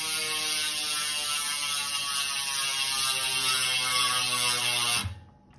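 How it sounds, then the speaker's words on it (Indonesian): Freewheel hub ratchet on a Tern Surge 20-inch minivelo buzzes loud and close in a fast, even clicking drone for about five seconds, then abruptly stops. "Suara ratchet itu emang khas ya."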